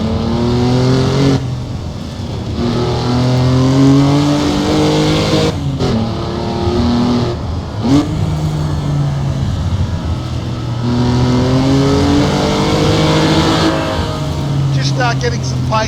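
Racing car engine revving and changing pitch in a motion-simulator driving game set on the Targa Florio road course, loud and continuous with gear-shift dips, while someone talks over it.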